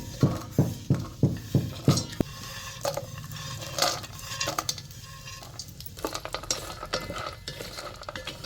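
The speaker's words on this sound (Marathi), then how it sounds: "हे आता आपण तुपात भाजून घेऊया" Dry fruits and nuts such as raisins roasting in ghee in a pan, opening with a run of quick metallic taps, then a soft sizzle with spoon scrapes and clinks close by.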